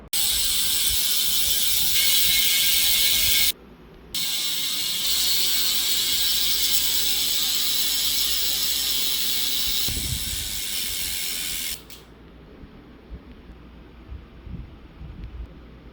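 A Cocoroco Volt 18-speed bicycle freewheels with a loud, fast, continuous ratcheting buzz close by that briefly cuts out, resumes, then stops, leaving quieter mechanical clicks.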